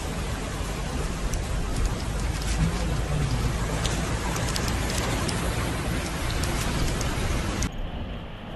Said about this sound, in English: The storm, characterized by powerful wind and torrential rain, lashed Mecca